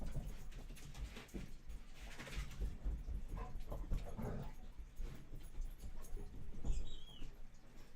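Dogs whimper faintly indoors, thin high squeaky whines scattered among soft pattering and shuffling, quiet and intermittent with no speech.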